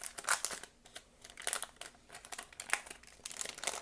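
A 1989 Donruss baseball card pack's wrapper crinkles and crackles close up as it is torn open, a steady run of irregular rustling bursts with no talking.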